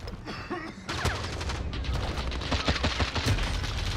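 Gunfire in the Warzone video game comes as rapid bursts of automatic shots, close and loud, nearly continuous after a brief quieter start, with fusillade-like overlapping cracks.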